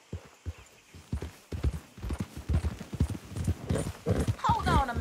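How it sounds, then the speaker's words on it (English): Horse hooves clip-clop steadily on the ground in the video game Red Dead Redemption 2, a brisk, even rhythm of close, clear steps running throughout with faint voices underneath. "That's one nice-looking horse you got there."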